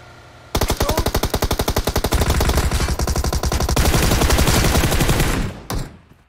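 Rapid automatic gunfire from the mobile battle royale game PUBG Mobile, a loud sustained burst of closely spaced shots lasting several seconds before cutting off, followed by a brief trailing shot.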